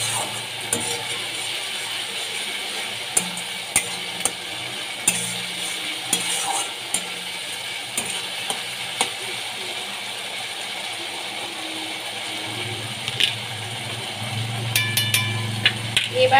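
Fish curry with potatoes and a little water sautéed in a pan, a steady soft sizzle with occasional scraping stirs and clicks close by, while a voice talks intermittently.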